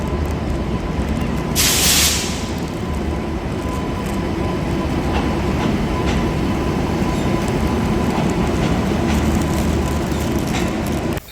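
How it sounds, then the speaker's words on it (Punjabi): A train pulls in at a station platform, rolling steadily past at close range, a loud continuous rumble with a brief hissing burst near the start and no voices. "ਟ੍ਰੇਨ ਪਲੇਟਫਾਰਮ 5 ਨੰਬਰ ਵਾਲੀ ਪਹੁੰਚ ਗਏ"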